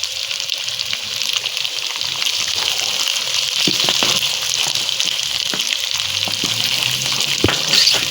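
Cumin seeds dropped into a pot of sizzling mutton, giving a loud, close, bubbling fry with crackles and occasional stirring clatter throughout, with no speech.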